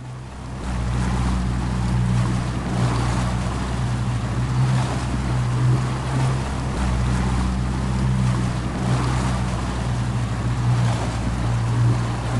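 A ferry boat crossing water in the video game Sneaky Sasquatch, with a steady engine drone and washing water that holds constant and fairly loud throughout, with no talking.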